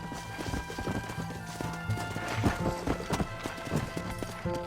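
Horse hooves clip-clop at a run in the Red Dead Redemption video game, a steady rhythmic pounding carried under in-game music with occasional faint voices.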